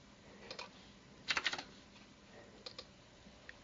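A computer keyboard is typed on in short, quiet bursts of clicking keystrokes, with one quick flurry in the middle and scattered single taps, close up with no talking.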